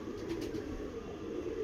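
Breeder pigeons give a few soft, faint coos over a low, steady background hum, with no one speaking.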